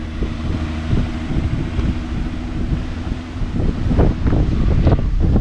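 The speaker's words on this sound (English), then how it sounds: "It is so windy today." Strong wind buffets the microphone in a constant loud rumble in an open lot, with gusts swelling louder toward the end and a Mk4 Volkswagen Golf R32 engine idling underneath.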